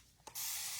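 One short, sharp hiss from a spray bottle, close and fairly quiet, following a brief softer puff and then running steadily to the end.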